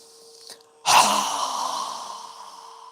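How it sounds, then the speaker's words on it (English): During yoga breathing practice, a faint breath is followed by a sudden, forceful mouth exhale close to the mic, a loud airy whoosh that tapers away over a couple of seconds. "exhale through our mouth with a strong exhale"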